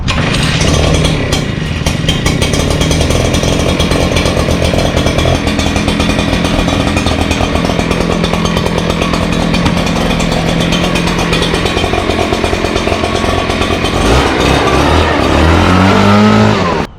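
A loud engine-driven leaf blower roars continuously up close while clearing a parking lot, holding a steady buzzing drone with slight revving before it winds down at the end.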